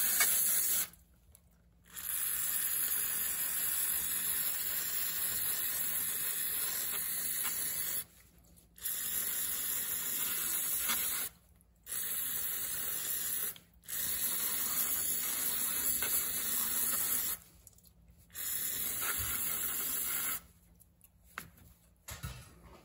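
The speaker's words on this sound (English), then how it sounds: "Now to clean it, I just use some brake cleaner." Brake cleaner sprayed from an aerosol can onto the oil strainer of a Chinese 125 cc motorcycle, coming in several sustained hissing bursts broken by short pauses, close and fairly loud with no talk.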